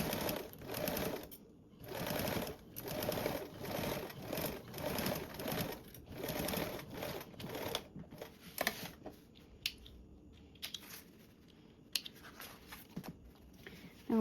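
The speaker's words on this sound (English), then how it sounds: "I'm going to top stitch with a 1/8 seam allowance." A domestic sewing machine top stitches the top edge of a 3D pocket in rapid bursts, a quiet whirring hum with short pauses between runs that grow sparser and stop-start near the end.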